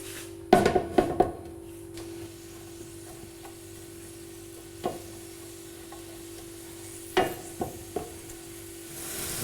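Bell pepper and bay leaf start cooking in a pan, a low quiet sizzle underneath a few sharp clatters and scrapes of stirring that come in short bursts near the start, middle and end.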